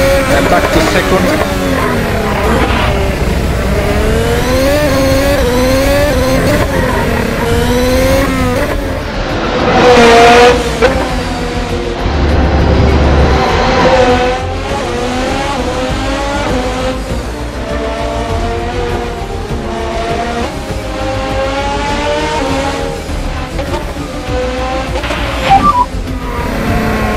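A race car in Assetto Corsa on the Akagi touge mountain road, its engine wailing loud and close, climbing and dropping in pitch through repeated gear changes, with a brief tire squeal midway and a commentator's voice running underneath.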